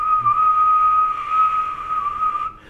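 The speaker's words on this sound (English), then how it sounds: "the way I figured out how to do this is you literally whistle. So just like a regular whistle." A steady, sustained whistled tone through a trombone mouthpiece, held at one pitch for a couple of seconds, clear and close, then cutting off abruptly.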